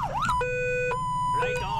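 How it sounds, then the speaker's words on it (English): A synthetic emergency siren from the video game FiveM, an NSW siren mod, wails with steady alternating pitched tones, loud and close, in a repeating two-note pattern. "There's your sirens all installed."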